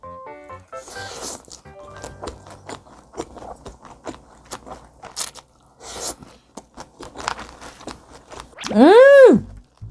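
A burrito bowl heaped with cilantro and sour cream is eaten up close: soft crunches, chewing and utensil scrapes come in irregular bursts, followed near the end by a brief hummed or voiced sound.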